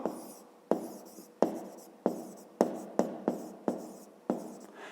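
An answer is written by hand on paper, with a series of short scratchy pen strokes at an irregular rhythm, close and fairly quiet, with no voices.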